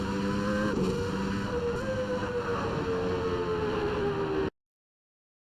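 The Ford Supervan 3, a van with a Formula 1 engine, drones loud and steady in Assetto Corsa with a slight pitch sag as it runs. The sound then cuts off abruptly into silence.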